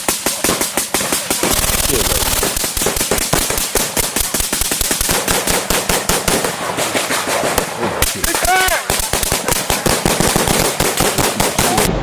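A police standoff erupts in sustained gunfire, long volleys of loud, rapid shots repeating for several seconds with brief gaps between bursts.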